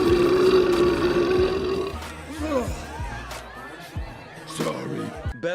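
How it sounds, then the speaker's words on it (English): A loud belch from the Thing, Ben, right in a man's face at a nightclub in a Fantastic Four film, a drawn-out rumbling burp lasting about two seconds, followed by crowd chatter and laughter. "I love the bit where Ben burps at the guy's face."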